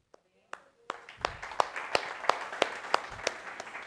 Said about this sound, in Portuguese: Palmas a ele.